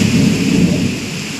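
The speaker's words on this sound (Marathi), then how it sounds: "बघा विजा कशा गडगडत्यात" Thunder rumbles through heavy rain during the season's first downpour in May, a loud low roll that swells and slowly fades over a constant hiss of rainfall.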